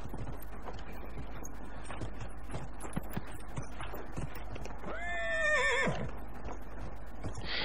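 A horse in Dragon Age Inquisition gallops with steady clip-clop hoofbeats, then lets out a loud, clear whinny near the end. There is no talk.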